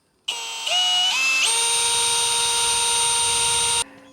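A power drill with a freshly sharpened bit spins up in a few quick steps to a high, steady whine, runs for a couple of seconds, then stops abruptly.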